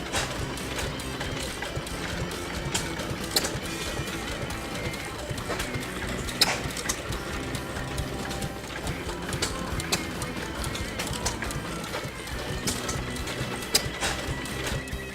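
1907 Fairbanks Morse 2 horsepower stationary engine running with a cooling tower, a steady rhythmic chuffing and clattering at close range, with faint speech in the background.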